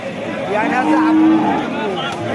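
Cattle mooing at a crowded cow market in Bangladesh, one long, drawn-out, loud moo swelling and fading near the middle, with faint background murmur.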